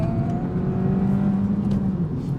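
Suzuki Swift Sport engine revving hard while driving on winding roads, a steady loud drone with rising harmonics, close and continuous with no talk over it.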